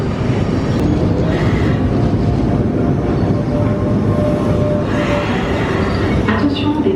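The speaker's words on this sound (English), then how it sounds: "We're getting the D train to Paris Gare de Lyon." A D train pulls into Paris Gare de Lyon station, its steady low rumble and rolling rail noise filling the platform throughout, with faint squeal and clatter on top and some talk in the background.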